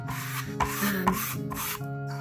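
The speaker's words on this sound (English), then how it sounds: "I'm just kind of rubbing that out, getting that to lay flat onto the canvas there" Rubber catalyst wedge rubbing paper flat onto a canvas in an art studio, a close, soft scraping and rasping in a few uneven strokes, with no voice.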